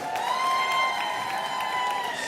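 Audience applause at a community celebration party, a steady wash of clapping from a crowd, fairly loud and sustained, with a bright tonal sound running over it.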